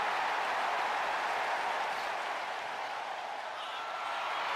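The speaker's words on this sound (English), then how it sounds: "Crowd are loving it." Steady wash of crowd cheering and applause from a WWE 2K25 wrestling match arena, a continuous, even roar with no distinct voices standing out.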